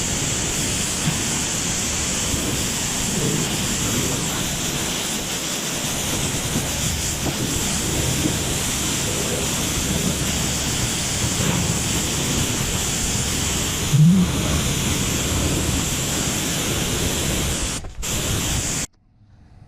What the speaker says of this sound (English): a case of thoroughly washing the vehicle off